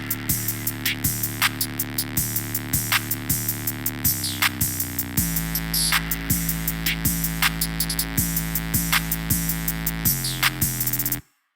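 A programmed hip-hop beat of booming 808 bass, crisp snare and reverb-soaked percussion knocks in a steady, even loop, with a pause in the low end partway through before the full pattern returns and cuts off abruptly.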